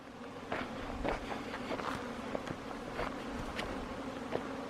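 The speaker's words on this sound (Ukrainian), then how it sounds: "Працюють бджолки." Honey bees at an apiary buzz continuously nearby, a dense droning hum with individual insects flying past now and then.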